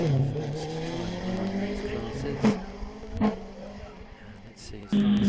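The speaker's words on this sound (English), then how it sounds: "Road going specialist production cars." Road-going specialist production cars climb the Wiscombe Park hillclimb with a loud, close engine roar that rises and falls through gear changes. A commentator talks over the sound.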